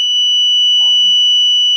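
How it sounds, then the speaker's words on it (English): Buzzer on an Arduino Uno board sounding a loud, steady high-pitched electronic tone that holds unbroken for nearly two seconds, close up, with a faint brief murmur in the background. "My buzzer is still here."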